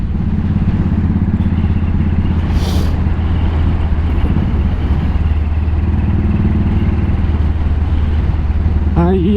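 Royal Enfield Continental GT motorcycle tuned by Hitchcocks, its single engine thumping steadily and loud while being ridden, with wind rush throughout and a short burst of higher noise partway through.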